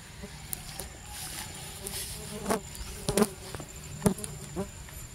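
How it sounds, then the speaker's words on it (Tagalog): Stingless bees buzzing around a hive colony, a faint, steady hum with individual bees passing close by in short louder buzzes. "Ito po ay puro stingless bees."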